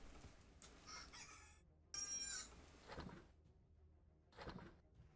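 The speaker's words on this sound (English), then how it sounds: "I hear a rooster." An alarm timer that sounds like a rooster crowing, with a few clucks and bursts of crowing separated by short gaps, fairly faint and heard on its own.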